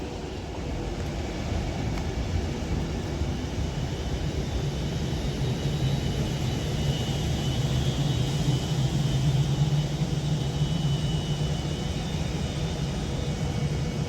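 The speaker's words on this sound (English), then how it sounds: "And as this Pendolino now arrives into board" An Avanti West Coast Pendolino train arrives at Runcorn station on the West Coast Main Line, a loud continuous rumble and hum that builds gradually and holds steady.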